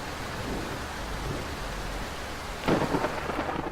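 Steady rain-like hiss with a rumbling bed, then a sharp crackling burst of close video game thunder near the end that stays loud and rough.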